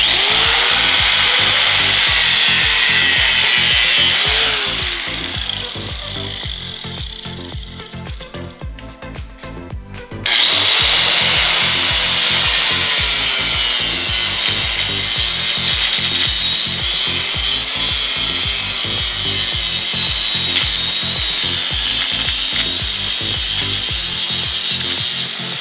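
A snowmobile hyfax slider is sawn to length with a steady, rasping back-and-forth cutting stroke, loud and close, briefly easing off midway before resuming at full strength, with no talking.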